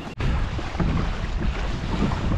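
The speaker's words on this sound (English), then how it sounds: "The wind's already coming up, dude." Wind blowing across the open ocean during a kayak fishing trip, a loud steady rush buffeting the microphone with low wave wash beneath it, no talk.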